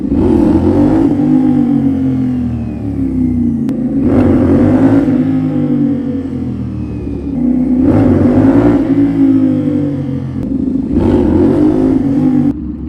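A CFMOTO 450SS motorcycle revs hard several times while a beginner rider attempts wheelies at low speed, each throttle burst rising sharply over a steady idling rumble, loud and close.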